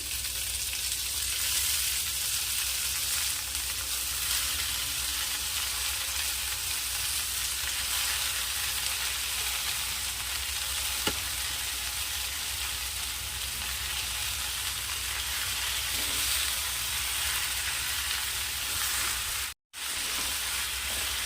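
Ambadi (roselle) greens, coarsely chopped and washed, frying in a pan over fried green chillies: a loud, steady sizzle that runs unbroken, with no talk.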